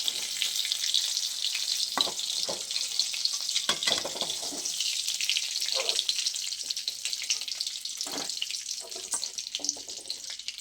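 Chicken biscuits deep frying in hot oil give a steady, close sizzling hiss throughout, with occasional soft scraping and clinks of a slotted spoon; no voices.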